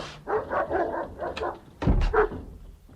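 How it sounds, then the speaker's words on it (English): A hound barks a few times indoors, short deep woofs in two groups, close and fairly loud, with room noise between. "It's just me and the hound, I'm afraid."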